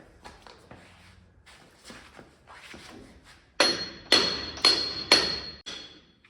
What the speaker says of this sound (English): you can't get the yoke on without tapping the yoke with the outer bearing